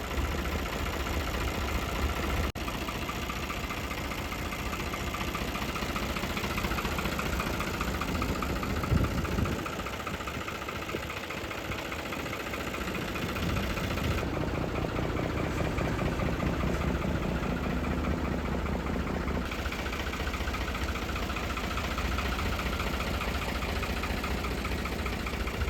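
A 55 HP Eicher 551 tractor, a 2023 four-wheel-drive model in running condition, idles with a steady, knocking diesel rumble that continues throughout at close range, with no voices.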